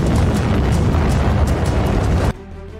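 Explosions in the Ukraine war: a dense, continuous roar of heavy booms and rumbling blasts, loud and sustained, cutting off abruptly near the end to a quiet hum.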